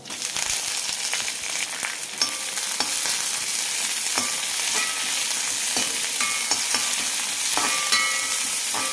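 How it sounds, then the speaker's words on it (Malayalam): Onions sauté in hot coconut oil with mustard seeds, urad dal, dried red chili and curry leaves, a steady bright sizzle broken by scrapes and clicks of stirring, close up and continuous with no talking. "സവാള ചെറുതായി ചുവക്കുന്നവരെ വഴറ്റിയെടുക്കണം."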